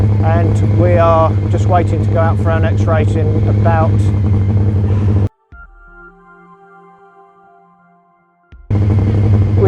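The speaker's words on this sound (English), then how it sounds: "We've just started the engine on the bike and you can hear it running in the background" A dirt track speedway sidecar motorcycle engine idles with a low, steady rumble beneath someone talking, then the sound drops out before the rumble returns.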